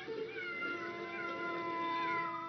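Several cartoon cats meow in a sustained, overlapping chorus of high wavering cries, fairly loud and continuous with no talking.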